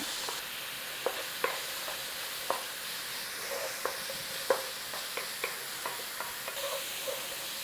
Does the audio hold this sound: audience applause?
no